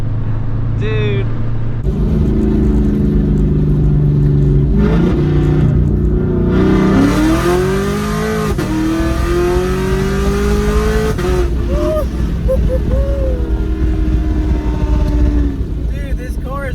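A boosted Chevrolet Camaro's engine revs hard while accelerating, its loud, close growl climbing in pitch through successive pulls, with brief voices over the engine.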